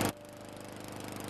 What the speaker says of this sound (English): the guy on the lawnmower just keeps driving like nothing happened